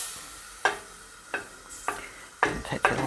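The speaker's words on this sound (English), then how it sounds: "we'll just melt the butter." Margarine melting in a pan, with several short sizzling bursts spaced irregularly as it is stirred and moved around, close and fairly quiet between the bursts.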